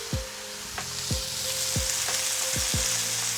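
Slices of chashu pork searing in a hot pan give a steady, close sizzle and crackle, broken by several sharp knocks of the pan or utensil as the meat is moved, with no talk.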